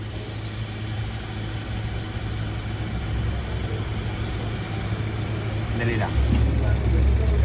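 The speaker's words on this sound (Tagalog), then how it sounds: "Check po tayo ng kompresor kung gaano kalakas pa ang bomba." An air-conditioning compressor with a weak pump runs during a pressure check, a steady engine-like hum that grows slightly louder toward the end, with people talking briefly over it.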